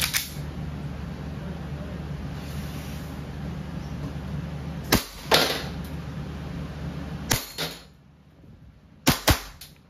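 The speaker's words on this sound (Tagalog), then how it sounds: "firing 2011 High Kappa T-Rex. Semi and full auto" A WE 2011 Hi-Capa T-Rex airsoft pistol fires close by, giving sharp cracks in single shots and short bursts of semi and full auto over a steady background hum.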